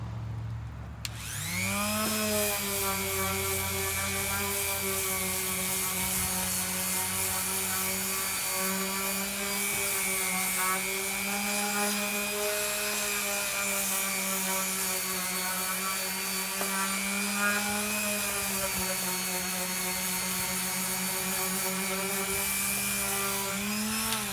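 A steady, whining power sander grinds continuously across old barn wood, loud and close, with a constant motor drone and a rough rubbing texture throughout.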